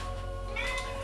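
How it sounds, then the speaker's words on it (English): A cat gives a brief meow, quiet and somewhat distant, rising over a steady indoor hum. "My cat is talking to me."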